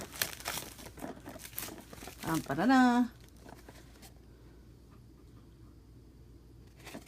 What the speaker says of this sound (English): let me just get the plastic off this guy